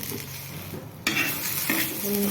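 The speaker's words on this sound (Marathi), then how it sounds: "ह्या मिरच्या चांगल्या भाजून घ्यायच्या" Green chilies roasting in a pan for brinjal curry give a soft, close sizzle, broken by two sharper scraping stirs of a spatula, with no talk.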